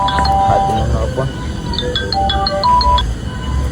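A phone rings with a bright repeating electronic melody of short tones, heard under a man's speech and background noise.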